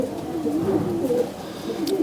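A breeder's pigeon gives a soft, continuous low cooing, close by and steady throughout, with no voices over it.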